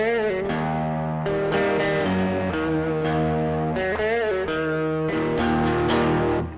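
A loud, distorted electric guitar power chord from the intro of a song rings out continuously, shifting pitch a few times, with no voices.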